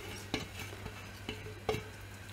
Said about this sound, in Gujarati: હવે ચાસણીમાં આપણે આ બધું મિક્સ કરી દેવાનું છે, એટલે થોડી વાર આ રીતે હલાવવાનું